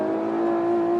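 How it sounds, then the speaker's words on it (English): An Infiniti Q50 S Red Sport engine held around 5,000 RPM, giving a steady, smooth hum with a subtle exhaust note, loud and close and sustained without talk. "But you can hear the engine. I mean, it's got a subtle exhaust note."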